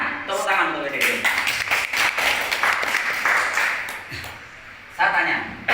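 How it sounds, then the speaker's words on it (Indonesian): An audience applauds a company, PT GMI, at a public talk on digital assets, with bursts of clapping mixed with a speaker's voice over loud amplification. "Tepuk tangan untuk PT GMI."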